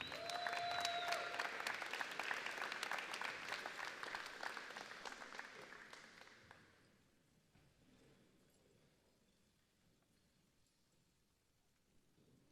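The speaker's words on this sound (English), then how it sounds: "Please join me in another round of applause for our high honor graduates." Audience applause for high honor graduates at a 2026 high school graduation, dense clapping from a large crowd for about six seconds before fading to a quiet room.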